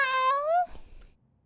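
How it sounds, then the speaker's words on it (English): A cat meows once in the video game Love in the Time of Spellphage, a clear, close, drawn-out cry that slides downward at its end, followed by quiet soft rustling. "Phoebe, so meowy today."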